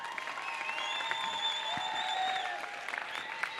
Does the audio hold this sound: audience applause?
yes